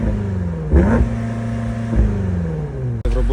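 A BMW X5M F95 idles with a low, steady exhaust rumble before any pop-and-bang activation, broken by a few short throttle blips, close and fairly loud with no talking.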